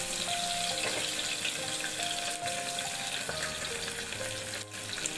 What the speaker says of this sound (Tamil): எண்ணெயில் கடுகு போட்டிருக்கோம். வந்து கருவேப்பிலை சேர்த்து போட்டுருங்க வெங்காயத்தோட.